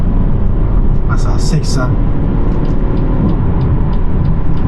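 BMW X1 F48 car accelerating up a steep slope, a steady loud engine drone with road rumble throughout, while someone talks over it.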